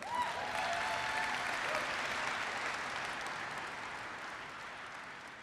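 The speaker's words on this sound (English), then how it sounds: "So let's give Jim a big round of applause." Keynote audience applause at AU Las Vegas 2019 fills a large hall, a dense roar of clapping that slowly fades, with faint whoops early on.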